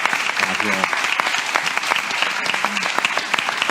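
Audience applause at a round-table book event, a steady dense clapping from a room full of people, with a voice speaking briefly over it.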